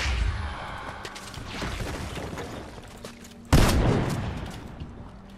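Gunfire in a ranked online shooter match, a rapid burst of shots followed after a pause by a sudden loud blast, close and dense with no talking over it.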